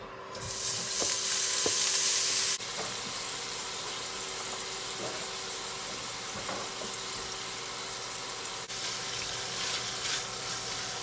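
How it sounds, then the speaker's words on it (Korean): Bacon sizzles in a pan as it renders fat for carbonara, a steady crackling hiss with occasional pops and small clicks; a loud burst of hissing opens the clip for about two seconds before settling to an even fry. "베이컨으로 기름을 내야 됩니다."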